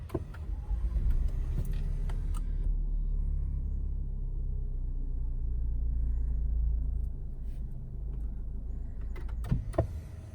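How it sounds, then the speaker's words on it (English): Lexus RX300 (2019) engine idling as a steady low rumble, cutting out partway through, with clicks and a door-like thump near the end; no talk. "Several times we stop and start the engine."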